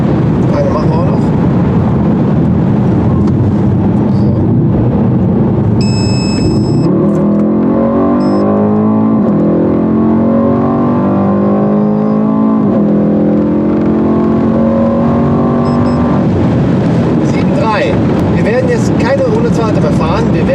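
Mercedes E63 S 4Matic+ and BMW M5 F90 accelerating hard on the Autobahn, a loud sustained engine roar climbing through the gears with wind noise.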